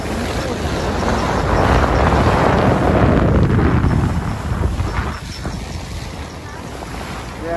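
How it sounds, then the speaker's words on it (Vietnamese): Wind and rough waves buffet a boat, a broad roaring wash that swells toward the middle and then eases, with wind buffeting the microphone and no clear speech. "về có gió có sóng dữ rồi nè"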